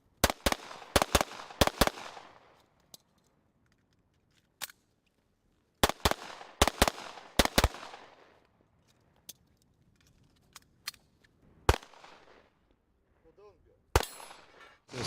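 Sharp gunshots fired in quick bursts during practical shooting training at a firing range, loud, close, cracking reports separated by short pauses, with someone talking between volleys.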